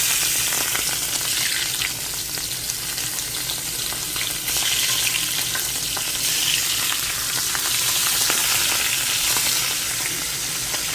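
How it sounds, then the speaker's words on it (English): Halloumi cheese slices fry straight in hot grease, a loud, continuous close-up sizzle and crackle with small spattering pops and no voices. "we're going to do some fried halloumi too"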